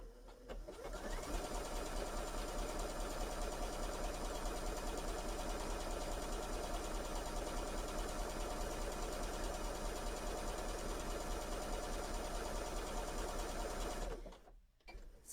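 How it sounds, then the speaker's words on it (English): A BERNINA sewing machine runs a stretch stitch on knit fabric, a steady, fast mechanical whir that continues for about fourteen seconds before stopping abruptly. "I'm going to go back to the sewing machine and sew it out."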